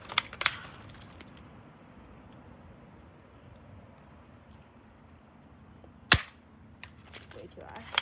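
Airsoft gun shots at an outdoor target: a couple of quick snapping pops near the start and another sharp pop later, over steady wind and outdoor noise.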